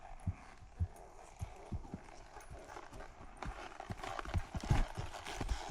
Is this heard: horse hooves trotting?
yes